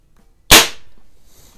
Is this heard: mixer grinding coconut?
no